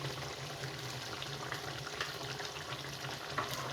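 Ginger garlic paste with turmeric powder frying for beef masala in a pan, a steady close crackling sizzle with faint stirring scrapes throughout and no voices.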